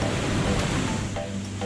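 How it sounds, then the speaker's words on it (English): Broadband roar of a waterfall pouring into a deep pool, a steady rushing wash of water without a break, with no voices. "We found a beautiful, amazing waterfall with one of the deepest pools I've ever seen."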